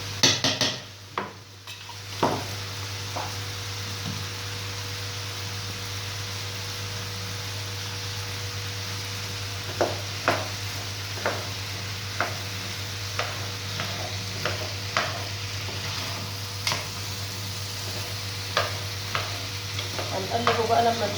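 Garlic frozen in chicken fat sizzles steadily in a pan for potato shakshuka, with a utensil stirring and tapping against the metal in scattered sharp clicks over a constant frying hiss, close with no voices.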